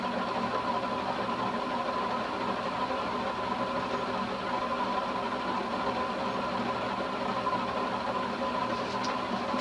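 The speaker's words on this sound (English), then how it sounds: "this is really just your average medium speed for a 36-inch fan" A Toastmaster 36-inch vented spinner ceiling fan running at medium speed gives a steady, faint motor hum with a soft whirring drone that stays constant throughout, with no talking.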